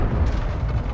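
Tank cannon firing in the game World of Tanks, a heavy low booming blast with a rumbling tail, short and loud with no voices.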